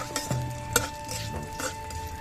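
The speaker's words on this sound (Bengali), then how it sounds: "তার জন্য কড়াইতে সর্ষের তেল দিয়ে দিচ্ছি। তেলের মধ্যে দিয়ে দিচ্ছি একটা তেজপাতা, দিয়ে দিচ্ছি 5 ফোড়ন।" A bay leaf and Bengali five-spice mix hit hot mustard oil in a wok, a soft sizzle with a few clinks and scrapes of a spoon against the metal, close and quiet.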